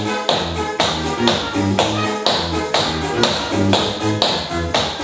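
Tap shoes strike a floor in a repeated, even beat during a tap dance class running a time step sequence: loud, close, crisp taps over a low accompanying musical tone, with no voices.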